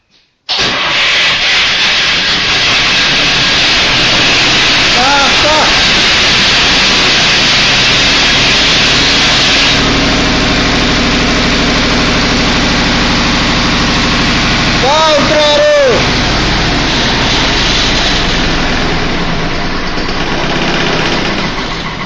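An engine turns over and settles into a steady idle that runs for a long stretch, with a broad mechanical hum and short squeaky chirps partway through.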